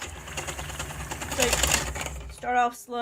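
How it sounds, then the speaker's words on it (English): Electric beaters whip cream in a bowl chilled in the freezer, a steady buzzing whir running continuously near and loud, then giving way to a brief clatter at the end. "And now we're just going to start beating."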